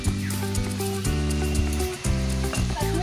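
Onion fries in oil in a pan with turmeric and Kashmiri chili powder, a loud, close, continuous sizzle broken by stirring scrapes and knocks of the spatula.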